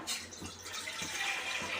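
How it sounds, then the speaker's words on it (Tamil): Water is poured into a batter for making kanji vathal, a soft, brief splashing trickle heard faintly and close by. "இந்த அரை ஜோள தண்ணி ஊற்றணுமா."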